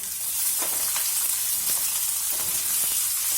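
Sliced onions sizzle loudly in hot oil with roasted dal while South Indian tomato chutney is being made, a dense, steady frying hiss broken by a few soft stirring clicks, with no voices.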